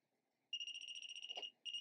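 An Arduino Uno ultrasonic distance sensor's buzzer sounds a rapid run of steady electronic beeps, clear and close, breaking off briefly and then resuming.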